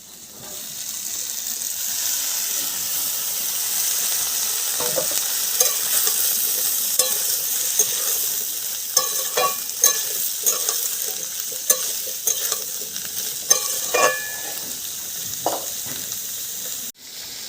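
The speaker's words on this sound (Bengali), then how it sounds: "আলুটা আগে একটু ভেজে তারপরে কাঁঠালটা দিয়ে দেব এবার আমি কাঁঠালটা দিয়ে দেবো" Jackfruit pieces go into potatoes frying in oil in a pan, with a loud steady sizzle throughout and close scraping stir strokes and clinks in the second half.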